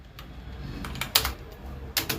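Typing an SQL query on a computer keyboard: a few scattered clicky keystrokes with pauses between them, fairly quiet and close, no voice.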